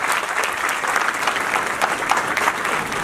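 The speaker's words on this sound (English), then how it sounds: "Please welcome them to the round of applause." Dense, steady applause from a large audience greeting guests at an evening event, sustained and fairly loud throughout with no voices breaking through.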